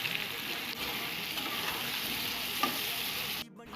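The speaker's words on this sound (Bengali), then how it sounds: "আলুগুলো ভাজা হচ্ছে" Potatoes fry with cumin and bay leaf in a pan and give a steady, close sizzle with light stirring scrapes, then cut off abruptly near the end.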